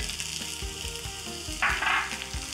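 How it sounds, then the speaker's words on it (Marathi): Sabudana khichdi with potato, roasted crushed peanuts and salt sautéing uncovered in a pan, giving a steady close sizzle and frying hiss with soft stirring scrapes and a brief louder crackle partway through, no voices. "करूयात मिक्स आणि झाकण न ठेवता ही खिचडी छान अशी परतून घेऊ"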